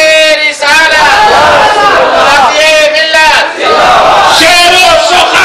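A large crowd at a Hindi-Urdu religious gathering shouts a takbir chant in loud, repeated surging waves of massed voices, each swell rising and falling.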